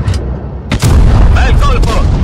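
A heavy tank cannon shot in World of Tanks Blitz lands as a sharp boom, followed by further impact crashes, loud and close, while an Italian voice talks over the action.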